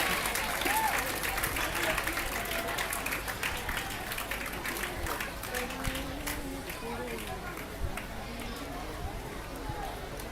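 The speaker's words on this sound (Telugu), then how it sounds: "చప్పట్లు చప్పగా ఉన్నాయి, కొంచెం పట్టాలి." An audience claps steadily throughout at a school and college merit awards ceremony, a continuous mid-sized round of applause with a murmuring crowd and a voice speaking over it.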